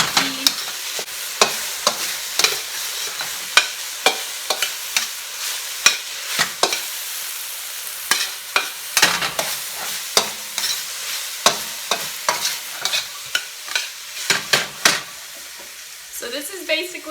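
Ground beef frying in a pan for stuffed bell peppers, with a steady sizzle broken by repeated sharp scraping and stirring strokes of a utensil against the pan, close and fairly loud.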